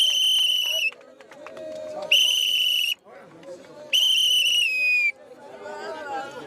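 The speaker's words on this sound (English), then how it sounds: "3 whistle blows." Three long, shrill whistle blasts ring out one after another in a stadium during a farewell tribute to a boxing champion in DR Congo. Crowd murmur fills the short gaps between the blasts.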